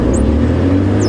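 A safari vehicle's engine at Djuma Game Reserve, a loud, close, steady low drone while the driver struggles to get it into reverse.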